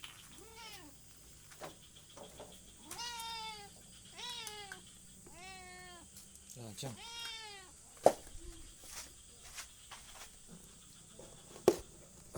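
A cat meows several times in a row, close and fairly clear, each call a drawn-out wavering cry, with brief human speech and a few sharp knocks nearby.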